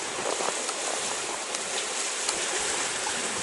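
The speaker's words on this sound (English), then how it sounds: "So if I've got turbulent water like that, and ice on each side" Turbulent, icy winter trout stream in Wisconsin rushing between banks of ice, a steady close hiss and gurgle of flowing water with no break or voices.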